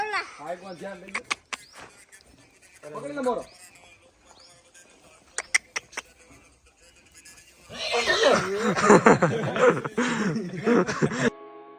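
A 21-month-old mare, a restless and wild-tempered young filly, neighs in several whinnies early on, then gives a longer, louder burst of excited calls near the end, close to the microphone, with people talking around her.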